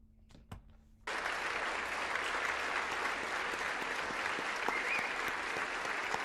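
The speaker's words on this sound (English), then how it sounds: "they clap for McCarthy" After a brief quiet moment with a couple of sharp taps, an audience breaks into loud, sustained applause for McCarthy at a Republican gathering, with many hands clapping continuously to the end.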